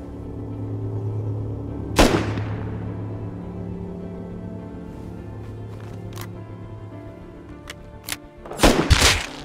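Video game Rust gunfire: one loud sharp shot booms and decays over a low rumble, and then a quick burst of several closer shots and clicks follows near the end.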